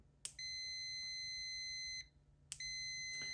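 A Fluke T+Pro electrical tester sounds its solid continuity tone, a steady high-pitched beep held for nearly two seconds, a short gap, then the same tone again, close and clear with no talking.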